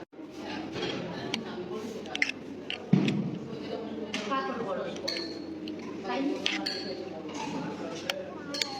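Spoons and dishes clink at an outdoor falooda stall, with scattered light metallic taps and one sharper knock amid busy chatter and voices nearby.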